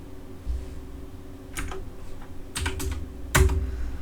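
A computer keyboard is tapped while drawing lines in SketchUp, a few crisp, close key strikes clustered toward the end, the Enter key included, over a quiet room hum.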